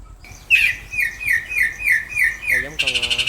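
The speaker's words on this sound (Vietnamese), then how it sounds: "Còn bên đây là chợ chim nữa bạn." Caged birds at a bird market in Thạnh Hoá, Long An, giving a run of repeated loud chirps in a steady rhythm, then a quicker trilling burst of calls near the end.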